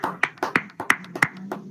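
A small audience at a Hindi poetry gathering claps to welcome a poet, about eight distinct loud claps in an uneven rhythm rather than a dense roar, with a faint voice underneath.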